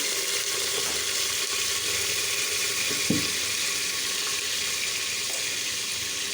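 Onion frying in hot oil with ginger, garlic, garam masala and bay leaf for a spicy duck curry, a steady, even sizzle that continues without a break and with no talking.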